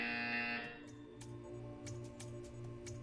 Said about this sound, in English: And you will hear... hear a buzzer.